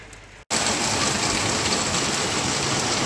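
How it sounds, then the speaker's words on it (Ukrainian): Steady, dense rain pours down close by on a garden, a continuous hiss of drops hitting surfaces after a brief moment of near silence at the start. "але дощик пішов, все в саду не поробиш нічого"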